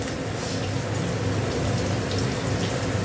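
Water pours into a pan holding nigella seeds and turmeric, making a dense, steady rushing hiss that lasts the whole few seconds, close and loud, with no voices.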